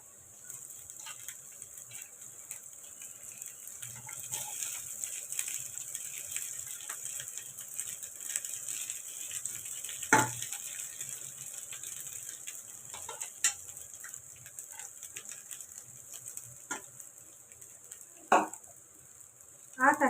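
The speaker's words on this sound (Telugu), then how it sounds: "ఇప్పుడు మనం కుక్ చేసుకున్నటువంటి రైస్ వేస్తున్నాము దీనిలో." Cooked rice tipped into a hot pan and stir-fried with vegetables for veg fried rice: a soft steady sizzle with scattered scraping stirs and a few sharp spatula clacks against the pan.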